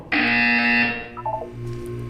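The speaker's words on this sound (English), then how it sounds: "You will hear a buzzer." A single loud, harsh electronic buzzer from the video game Portal 2 sounds for about a second, then cuts off, leaving a faint low hum.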